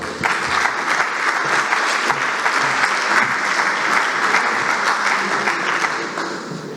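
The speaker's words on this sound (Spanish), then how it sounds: "Un aplauso para ellos, por favor." Audience at an international education conference session applauding the speakers, loud, dense and sustained clapping from a large crowd that tapers slightly at the end.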